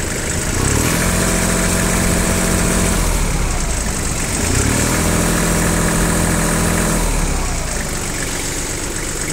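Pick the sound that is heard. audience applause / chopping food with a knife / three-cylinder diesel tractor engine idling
three-cylinder diesel tractor engine idling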